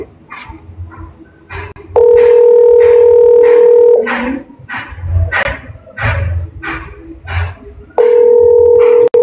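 A ringback tone sounds in two long steady bursts at the start and end of the clip, with voices talking over the quieter stretch between them.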